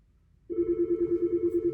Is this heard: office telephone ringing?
yes